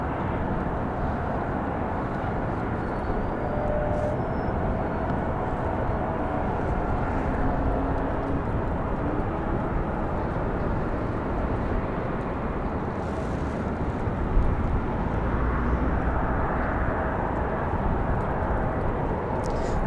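A Boeing 737 Max 9 jet roars steadily at Raleigh-Durham International Airport, a broad, constant engine rumble heard from a distance with no pauses.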